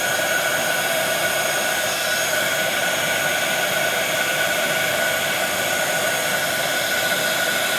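A heat tool melting glitter embossing powder: a constant, steady fan-and-blower hiss with a faint tonal hum, running unchanged and at even loudness the whole time, with no voices.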